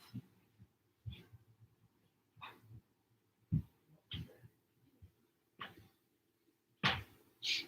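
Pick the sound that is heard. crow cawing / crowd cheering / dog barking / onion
dog barking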